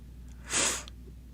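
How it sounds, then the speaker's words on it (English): A person gives a single short, wet sniffle or snort up close, a brief nasal rush of air over a quiet background hum. "Sorry for the sniffling."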